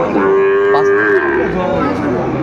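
A Sahiwal cow moos loudly and close by, one long drawn-out bellow that wavers in pitch against a busy background murmur at a cattle market.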